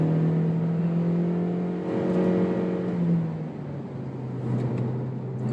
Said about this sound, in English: it's also noisy a bit when you floor it